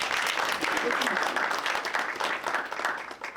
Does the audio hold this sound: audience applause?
yes